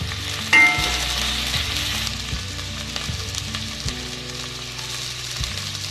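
Onions and curry leaves fry in hot oil in a wok for broiler chicken dry fry, a steady close sizzle with a sharp burst as they hit the oil, then continuous crackling with stirring scrapes throughout.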